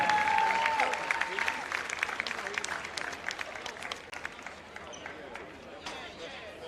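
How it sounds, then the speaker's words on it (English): Crowd in a gym at a boys' high school basketball game gives a round of applause for senior players, dense clapping loud at first and gradually thinning out, with a public-address voice and crowd chatter underneath. "let's give one more round of applause for our seniors, Maddox, Bryce, Lawson, Trevor, Quindon, and"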